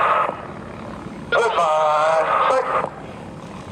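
Blue Angels jets cross at an airshow, a distant roar swelling suddenly into a loud whining jet pass for about a second and a half before fading back to a low rumble.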